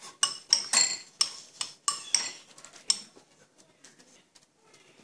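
A utensil stirring meat in tomato sauce in a metal pan, with a run of sharp clinks and scrapes against the pan for about three seconds, then softer, quieter stirring fading out, close up and without speech.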